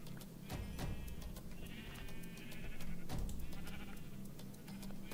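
Sheep bleating in the video game Minecraft; several short bleats in succession against quiet game ambience and clicky effects, fairly faint, with no talk over them.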